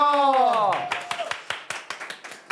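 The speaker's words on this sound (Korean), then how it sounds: "두 분에게 박수 한번 주십시오" Studio audience on a Korean talk show clapping for two guests, a recorder grandmaster and another man; a sung or played tone fades out as scattered, fairly close claps begin and continue unevenly.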